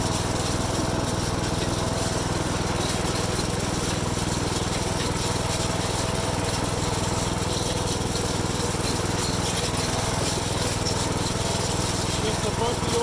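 A lawn tractor engine running continuously while driving over a bumpy old pasture, a loud, steady, close drone with no pauses.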